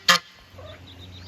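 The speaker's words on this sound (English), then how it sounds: "I'm giving it a moment for the geese to calm down." A single loud goose honk bursts out near a chicken coop where new pullets are being introduced, followed by quieter fowl murmurs and soft background clucking.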